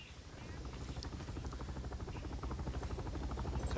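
In the shooter Bulletstorm, a helicopter's rotor chops in a steady, fast thump that builds as it draws nearer, loud and continuous throughout.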